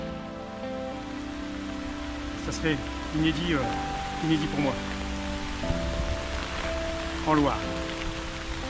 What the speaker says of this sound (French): la pluie tombe à flot